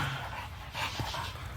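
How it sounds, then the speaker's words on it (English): A tired dog pants close by outdoors on a hot day, a quick, rhythmic series of breathy huffs running throughout at moderate loudness. "I think the dog's tired out"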